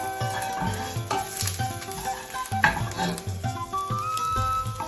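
Onions fry in a pan until slightly charred, making a continuous loud sizzle with occasional stirring clinks and scrapes, and no voices present.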